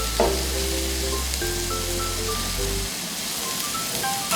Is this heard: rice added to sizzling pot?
yes